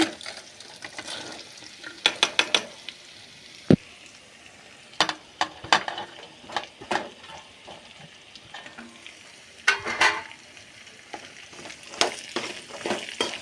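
Vegetables fry in hot oil in a home kitchen pan, a low steady sizzle broken by sharp, irregular clinks and scrapes of stirring, some in quick bursts.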